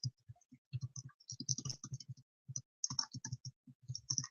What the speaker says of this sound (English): I was typing it.